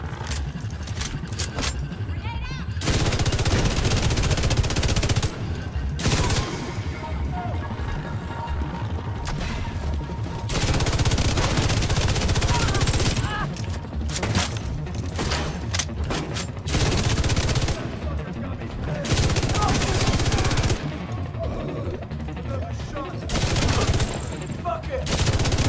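Heavy automatic fire from an exotic light machine gun in a shooter video game running a Striker build comes in long sustained bursts broken by short pauses, loud and dense, with occasional crashes mixed in.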